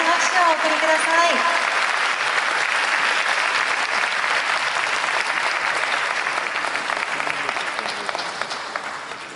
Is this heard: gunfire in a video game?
no